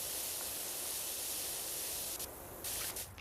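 A pressure washer spraying in the PowerWash Simulator 2 video game gives a steady, loud broadband hiss that runs continuously and briefly breaks and shifts near the end.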